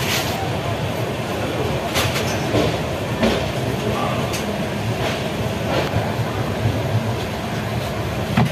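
Duronto Express train from Sealdah to Puri running at full speed, a loud continuous roar of wheels and wind with faint periodic rail clacks throughout.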